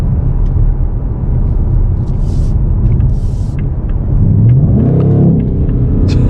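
A Ford Mustang Dark Horse V8 rumbles loudly from inside the car, a steady deep drone that swells into a rising acceleration sweep near the end, with a few light clicks and no speech.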